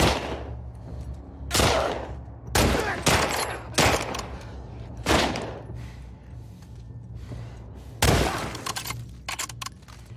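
Bursts of gunfire from the video game The Last of Us Part II crack out in several loud shots over about ten seconds, some clustered close together, with game sound filling the gaps.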